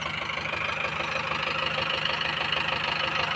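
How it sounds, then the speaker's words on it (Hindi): Mahindra tractor diesel engine misfiring because fuel is not reaching the pump properly, idling close by with an uneven knocking beat under its steady chug, no voices. "ये भाई थोड़ा ट्रैक्टर मिसिंग मार रहा है, डीजल अच्छे से नहीं पहुंच रहा पंप में।"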